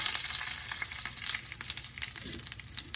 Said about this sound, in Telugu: నూనె వేడెక్కిపోయిందండి దీనిలో నేను కొంచెం జీలకర్ర అలాగే ఎండుమిర్చి